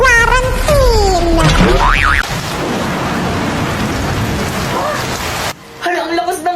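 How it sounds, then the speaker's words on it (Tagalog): Heavy rain pours down in a steady, dense hiss that fills most of the clip. A cartoonish boing and some voice sounds come first, and the rain cuts off near the end as a voice returns. "Hala, ang lakas ng ulan."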